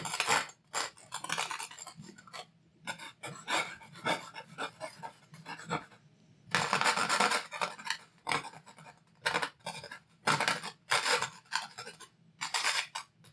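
A palette knife scrapes oil paint during a beginner landscape painting, giving a series of short, close rasping strokes in quick irregular bursts with brief pauses between them and no talking.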